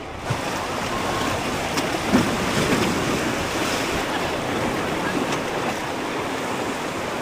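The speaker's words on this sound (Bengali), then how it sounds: "ওপর থেকে জলটা যখন নিচে নামছে সেই জায়গাটা গতিটা একটু বেশি, আর ওখানেই মজা বেশি হয়।" Fast river water rushing during whitewater rafting near Kullu, a continuous loud broadband roar with wind buffeting the microphone and no break throughout.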